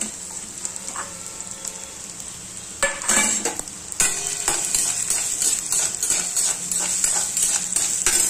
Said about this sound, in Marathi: तर आता हा मटकीचा कांदा आहे ना, हे याच्यामध्ये परतायला टाकतो।